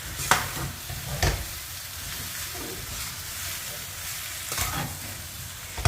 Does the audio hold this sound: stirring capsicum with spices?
yes